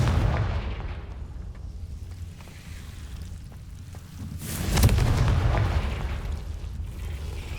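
Confringo explosive spell cast in the Hogwarts Legacy video game, a rumbling burst that swells around the middle and fades, set over a steady low background drone with no talk.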